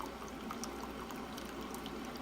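A leaking Keurig B60 coffee maker splashes while brewing, giving a steady, close hiss of pouring and spattering water that runs without a break and with no talk.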